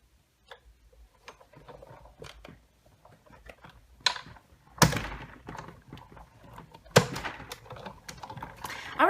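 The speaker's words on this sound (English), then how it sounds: "crank this through the Big Shot." A hand-cranked Big Shot die-cutting machine feeding die cut pieces through, with scattered clicks and ticks, then two louder grinding crunches as the plates pass the rollers, all fairly quiet and close.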